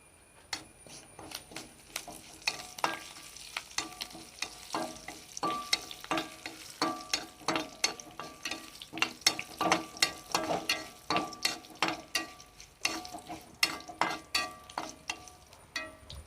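Mustard seeds popping in hot frying oil for pumpkin erissery, heard as a rapid irregular series of sharp crackling pops over a low sizzle, close and fairly loud throughout.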